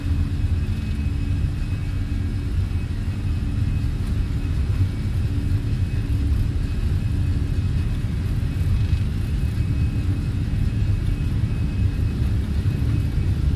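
An Austrian Airlines airliner on its takeoff roll in Microsoft Flight Simulator, flying Barcelona to Vienna, gives a steady, loud low engine rumble and whir that holds evenly throughout.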